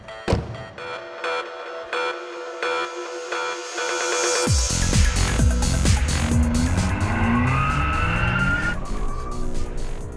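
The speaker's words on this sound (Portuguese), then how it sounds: "Os pneus não suportam tanta força e o carro sai patinando." A modified Volkswagen Jetta accelerates hard, its engine revving up through the gears as the tires squeal and skid loudly, a long sustained screech that sweeps and wavers for several seconds, close and dominant with no talking.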